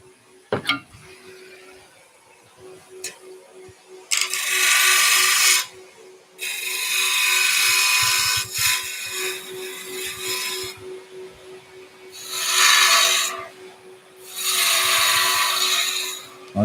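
A small wooden bowl handle is turned on a lathe with a quarter gouge. Several loud bursts of rough cutting and scraping come in separate passes, set apart by quieter gaps where the lathe hums steadily on its own.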